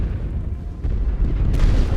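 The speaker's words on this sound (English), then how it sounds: "Oh, it's the mortar." Mortar shell exploding in a combat video game, a loud close boom with a rumbling low tail lasting a couple of seconds.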